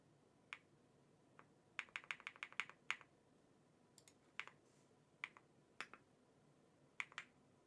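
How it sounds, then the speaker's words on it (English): Computer keyboard keys click in scattered bursts and single taps, very quiet and close, with no talk over them, during a Five Nights at Freddy's 3 game stream. "You can still hear the key clicking."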